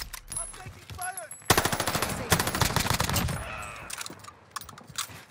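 Rapid automatic gunfire in Warzone Rebirth Island, with an MP40 submachine gun bursting in sharp repeated volleys amid scattered shots and game sound effects, fairly quiet in the mix, with in-game voice lines heard.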